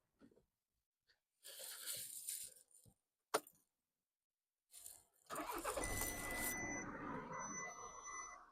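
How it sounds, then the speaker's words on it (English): A 2012 VW Tiguan is started: key clicks and a cranking rattle come first, then the engine catches and settles into a steady, loud idle. "let's start the car"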